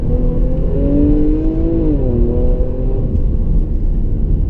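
A 2016 Jaguar XE S with a supercharged V6 accelerates hard, its engine drone rising steadily in pitch from inside the cabin, loud and continuous with a brief dip midway as it shifts, no voices.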